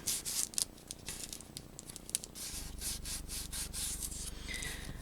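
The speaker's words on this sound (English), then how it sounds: "I'm going to smooth it along the outside edge. Just get that glued down." A glued paper envelope flap is smoothed along its edge by hand, giving rapid, soft rubbing and swishing strokes, close and fairly faint, over a low steady hum.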